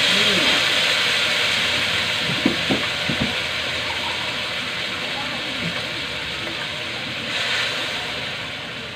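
Margarine sizzles in a pan with garlic already browned, cooked for a Filipino dish of sweet potato tops with sardines; a steady, fairly loud frying hiss runs throughout with a few soft knocks early on.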